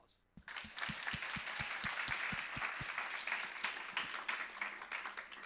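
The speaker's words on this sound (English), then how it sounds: "I would like to give you a round of applause." Audience applause for students at a school English speaking contest, beginning suddenly with distinct rhythmic claps close by over a bed of wider crowd clapping, fading slightly toward the end.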